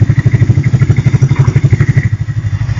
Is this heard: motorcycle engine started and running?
yes